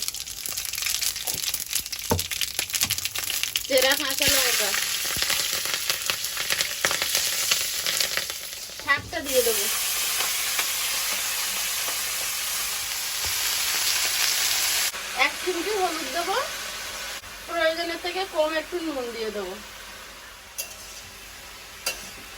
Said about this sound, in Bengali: শুকনো লঙ্কা জিরে ফোড়ন দিয়ে শাকটা ভেজে নেব